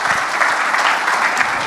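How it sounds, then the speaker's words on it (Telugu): Steady, loud applause from an audience at a movie success event, a dense wash of many hands clapping together without a break. "అందరు గట్టిగా ఒక క్లాప్స్ కొడితే సంతోషపడతామండి"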